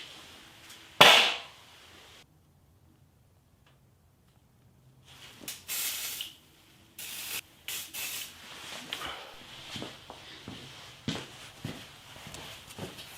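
Oven cleaner is sprayed onto YZ250 power valve parts in one short, sharp hiss near the start, followed by silence and then scattered clicks and workshop handling noises.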